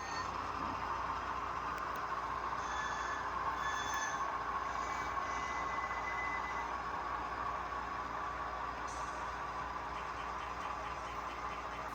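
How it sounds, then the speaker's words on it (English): An HO-scale model BN unit coal train runs steadily on a layout, a continuous mid-level rolling rumble with faint wheel squeal and no talking. "we sometimes run a unit coal train"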